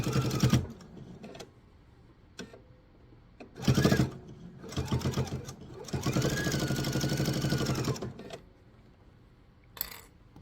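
A sewing machine stitches binding onto a fabric laptop sleeve in several bursts of rapid mechanical chatter, separated by pauses with quiet handling noises, close and fairly loud.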